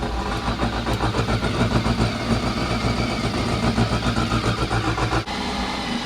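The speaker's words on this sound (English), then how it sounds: "let's go ahead and turn our engine on over there" A 2008 Yamaha AR/SX 230 jet boat engine runs steadily at about 2200 RPM during winterizing at home, a loud, even, throbbing drone with a brief dip near the end.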